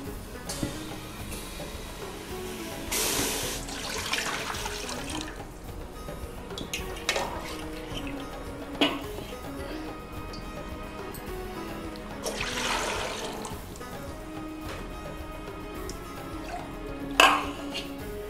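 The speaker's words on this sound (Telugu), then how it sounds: "స్టవ్ వెలిగించిన గిన్నె పెట్టుండా దీనికి ఒక 2 లీటర్లు నీళ్ళు పోసుకోవాలి" Water poured into a pot on a lit stove to make sugar syrup for gulab jamun, heard as a few separate splashing pours among quiet clinks and a metallic ping, with no talk.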